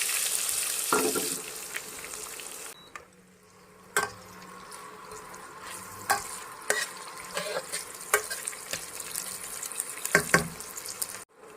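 Chopped onions fry in oil seasoned with nigella seeds and dried red chillies, in the same oil fish was just fried in. A steady close sizzle carries on throughout, broken by sharp clinks and scrapes of stirring.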